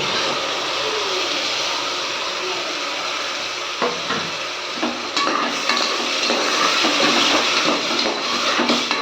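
Ground tomato paste hits hot oil for biryani-style tomato rice, sending up a loud continuous sizzle with frequent stirring scrapes and clinks against the pan, close and steady.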